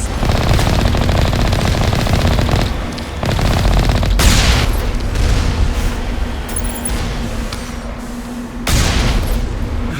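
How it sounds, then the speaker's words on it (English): Alliance turrets in the Mass Effect video game fire sustained automatic bursts, loud and dense, with short breaks and heavy booming impacts mixed in. "And these are Alliance turrets."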